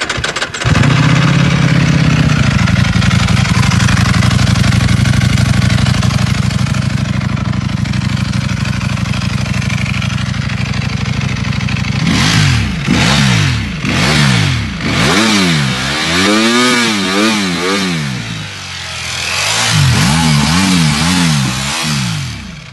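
A Ducati V4 R sport motorcycle engine cranks and fires, settles into a loud steady idle, then revs sharply toward 16,000 RPM in a series of high-pitched rising and falling bursts.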